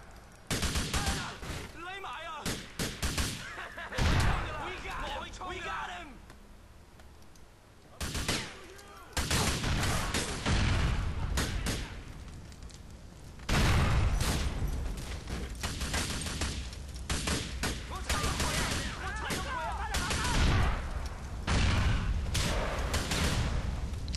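Gunfire in GTA IV, with repeated bursts of shots and fusillades rattling loudly through most of the stretch, some short pauses between volleys, under occasional talk.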